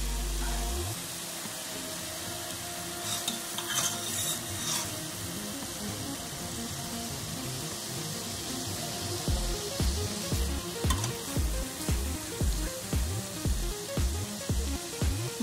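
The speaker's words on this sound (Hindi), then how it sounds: "ये देखिए दोस्तों, तेल हमारे तेल के अंदर मसाला कितना अच्छा पक रहा है।" Spice masala fries in oil in a pan for lauki kofta curry, a continuous close sizzle with repeated rhythmic stirring scrapes growing more regular toward the end, no talk.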